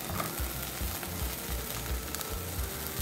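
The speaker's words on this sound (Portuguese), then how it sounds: "Aí eu vou dourar os cubinhos." Cubes of queijo coalho cheese fry in a pan, giving a steady, close sizzle with faint stirring and no voices.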